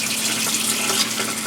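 Tap water runs steadily into a cooking pot of mustard greens and meat, a continuous close rushing splash with no one talking.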